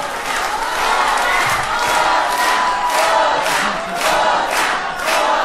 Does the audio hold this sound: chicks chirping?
no